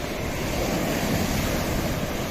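Sea waves and surf roll in a continuous loud wash with wind buffeting the microphone, a steady broadband roar with no voices.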